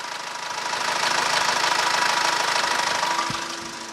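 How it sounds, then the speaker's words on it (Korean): A SsangYong New Korando C 2.2 diesel engine idles steadily with a low knocking rumble, close by, rising slightly then easing off near the end. "엔진 소리는 당연히 이제 디젤 엔진이다 보니까"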